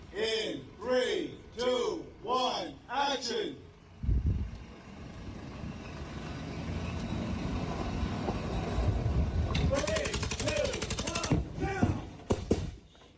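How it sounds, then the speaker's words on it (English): An explosion set off for a film shoot starts with a sudden loud boom and a long rumbling, crackling roar that fades slowly. Voices are heard before and during the blast. "The fact they really made that shit explode."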